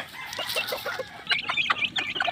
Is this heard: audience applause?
no